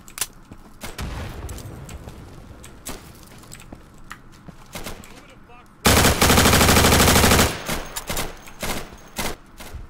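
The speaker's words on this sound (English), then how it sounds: "Somebody's shooting at me." Gunfire in the video game Insurgency: scattered single shots and bursts, then a loud sustained automatic volley for about two seconds, followed by more sporadic shots, with voices chatting in between.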